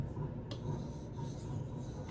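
Steady rasping rub of a Protech Strider PT knife blade in 154CM steel worked on a 240 grit sharpening stone, continuous close strokes with a few brief sharper scrapes, no talking.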